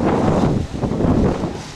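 Wind buffets the microphone with a loud, steady low rumble that swells and eases slightly, with no voices, at a paragliding site.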